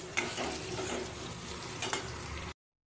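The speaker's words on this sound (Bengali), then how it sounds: "দেখো মাংস আর আলু ভালো মতো আমার ভাজা হয়ে গেছে পেঁয়াজটা একটু ভাজা হতে বাকি আছে" Chicken and potato pieces fry with onions in a pan, a soft continuous sizzle with occasional stirring clicks, fairly quiet, cutting off abruptly near the end.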